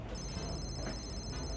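A phone rings with a steady electronic ring tone held throughout the short stretch while calling a friend, faint and close, no talk.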